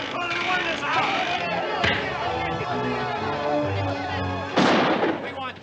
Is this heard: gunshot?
yes